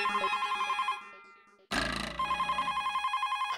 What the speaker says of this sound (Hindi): ओ राम जी काका का फोन आया वापस, तो एक मिनट चालू रखो